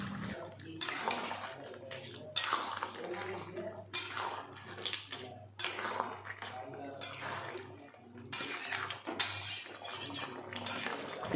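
Crab curry being mixed with garam masala paste in a pot, repeated metallic scrapes and clinks of a spoon against the pot at a steady pace, close and fairly quiet.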